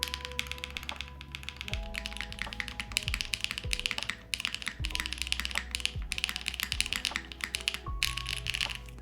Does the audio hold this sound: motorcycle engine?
no